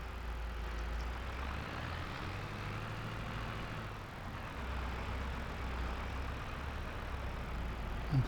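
Tractor engine idling in a farm simulator game on a dairy farm, a steady low rumble running throughout with little change, no talk over it.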